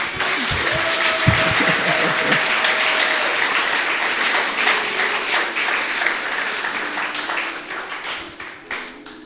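A church congregation applauds continuously, a dense wash of clapping with some voices and a few tonal sounds mixed in early on, thinning slightly toward the end.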